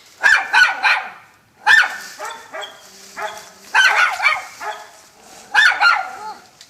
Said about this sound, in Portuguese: Ali tem um cachorrinho irritante